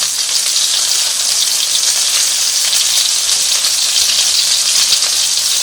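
Chicken wings fry slowly in a pan over low heat, giving a steady, bright, close sizzling hiss that stays even throughout with no voices.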